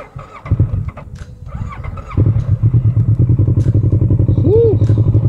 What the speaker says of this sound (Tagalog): Okay, start natin ang engine.